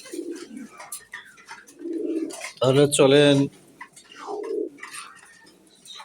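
Pigeons cooing at a pigeon farm, with one louder, clearly voiced coo-like call rising briefly in the middle while a person talks intermittently throughout.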